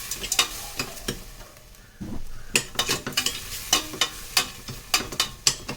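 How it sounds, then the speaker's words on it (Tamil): Garlic cloves hitting a hot pan for Ramadan nombu kanji (arsh), with close, bright sizzling broken by repeated sharp scrapes and clinks of a spoon stirring against the pan, louder after a brief lull. "பூண்டு சேர்த்துக்கலாம்."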